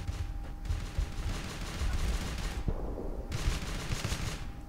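Gunfire crackles through a battle in the video game Uprising 44, dense overlapping shots and bursts under a continuous rumble of combat noise, with no talk.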